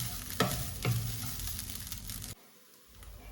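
Samosa filling fries in a pan for a sweet samosa snack, a loud close sizzle with two scraping stirs early on, then cutting off abruptly to near quiet.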